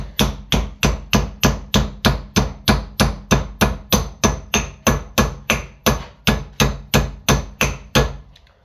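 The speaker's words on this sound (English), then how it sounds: "you can just hammer it out now" Steady metallic hammer blows on a copper bracelet, about twenty-eight evenly spaced strikes ringing close up, with no talking.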